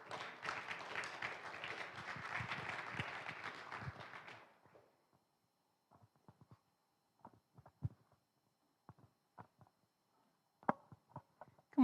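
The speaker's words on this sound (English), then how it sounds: "So let's clap for them as they come up." A church congregation claps steadily for about four seconds, fairly close, then the applause fades into a quiet room with scattered footsteps and small knocks.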